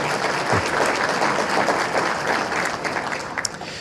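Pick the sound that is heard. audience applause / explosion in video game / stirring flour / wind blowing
audience applause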